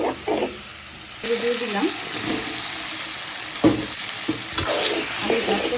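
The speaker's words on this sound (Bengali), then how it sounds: "মশলাটা একটু কষু।" Spice masala for liver curry sizzling in a pan while being stir-fried, a steady hiss with scraping stirs, and someone speaking briefly over it at the start and in the middle.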